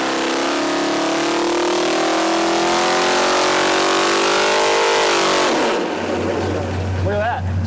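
A 512 cubic-inch stroker V8 with a raised block screams on an engine dyno, with a loud sustained rev climbing steadily in pitch before dropping off sharply as the throttle closes and the engine winds down near the end.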